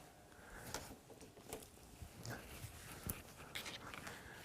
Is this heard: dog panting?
yes